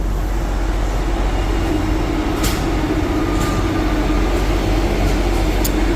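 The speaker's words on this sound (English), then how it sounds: "We have another train coming in." An Airport Line train pulls into East Perth Station, a steady low rumble of wheels and motor filling the platform with faint squeals overhead, continuous and fairly close with no voices.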